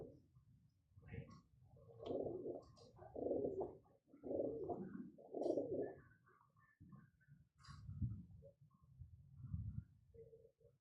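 Several pigeons coo in low, throaty, rolling phrases that repeat at close range, with a few faint higher chirps and no talking.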